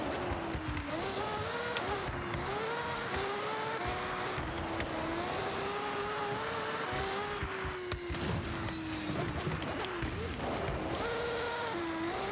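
A 2008 Mazda Furai in Forza Horizon drives an offroad course, its high-revving engine droning loudly and continuously with rising and falling pitch as it shifts, plus brief tire and impact noises.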